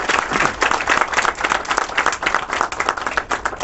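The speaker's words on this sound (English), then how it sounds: "a big round of applause to them" A crowd at a London graduation ceremony for Somali students claps for tutors and staff in a lively, continuous burst of applause with uneven, close hand-claps.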